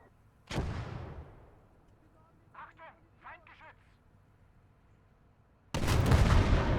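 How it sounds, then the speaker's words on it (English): Heavy gunfire from a DShK machine gun in the Gates of Hell war game, with a loud burst at the start fading out, a quieter stretch with distant shots, and another loud burst near the end. "Yeah, it was a Dushka."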